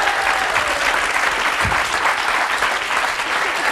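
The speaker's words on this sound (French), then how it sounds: "Merci, on peut l'applaudir." Audience applause on a French television talk show, a dense, loud and even burst of clapping lasting several seconds with no speech over it.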